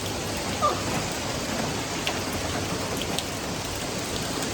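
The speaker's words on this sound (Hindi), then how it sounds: "बारिश इतनी मस्त हो रही है" Heavy rain in Lonavala pours steadily in a dense, unbroken roar, with no voices present.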